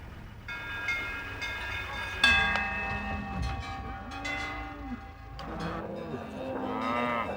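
Montbéliarde cows moo at an agricultural show, several low drawn-out calls rising and falling one after another amid crowd bustle and a faint background voice.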